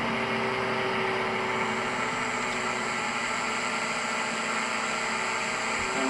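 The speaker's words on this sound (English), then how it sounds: "And we're pulling the engines back a bit" Aircraft engines in Microsoft Flight Simulator 2020 give a steady, dense whine and hum that holds at an even level throughout, with no voices over it.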